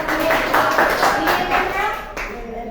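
A classroom of students claps for a group after their presentation, a brief burst of quick, overlapping hand clapping nearby that fades toward the end, with some voices mixed in.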